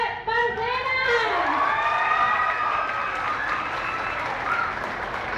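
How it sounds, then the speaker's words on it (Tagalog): Audience applause with cheering at a live band performance in a seated venue, a steady, dense crowd clapping heard up close. A voice or tone glides through the opening second and fades as the applause carries on. "ibigay natin ang bonggang-bonggang palakpak for Mr. Joseph Barcena!"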